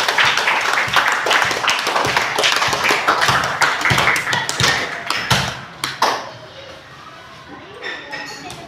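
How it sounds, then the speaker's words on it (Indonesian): A classroom of children applauds, with dense, uneven clapping and thumps for several seconds before it fades out into a quieter room with faint voices. "Kasih dulu aplaus untuk kita semua."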